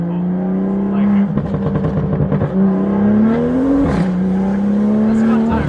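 A BMW M2 with the N55 engine pulls hard in second gear, its loud engine note climbing steadily in pitch, dipping briefly at a shift and climbing again, with faint voices underneath.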